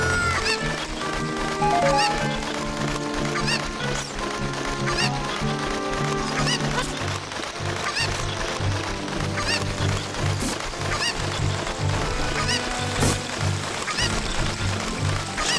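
Chiptune-style game music from Zelda: Ocarina of Time plays continuously with repeated bird-like honking and chicken clucking sound effects over it.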